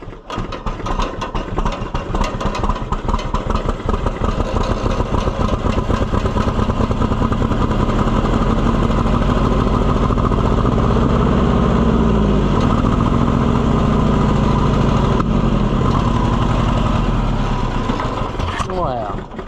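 An Oliver 550 tractor engine runs loud and close after starting, with a steady rapid chugging clatter that holds throughout, a voice talking faintly underneath.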